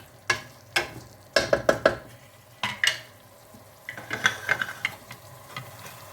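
Food fries in a pan while a utensil stirs it, giving sharp repeated scraping strokes over a low sizzle, close up and without speech.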